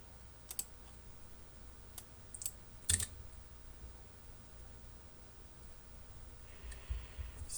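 Scattered keystrokes on a custom ergonomic mechanical keyboard: a few sharp, sparse clicks and taps over faint background hiss, fairly close, with long quiet gaps and no talking.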